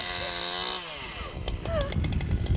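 Electric chainsaw work on timber in the wild Fiordland region of New Zealand: a buzzing whine gives way to gritty cutting noise with sharp intermittent bursts, moderately close, with voices speaking over it.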